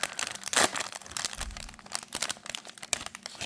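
Foil wrapper of a four-card UNO Elite NFL football card pack crinkling and tearing open up close, with a sharp rip burst early followed by steady rustling and crackling throughout.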